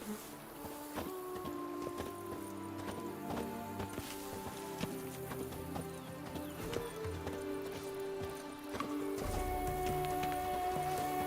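Roach the horse in a video game, hooves clip-clopping steadily at close range with a whinny partway through, over constant background music.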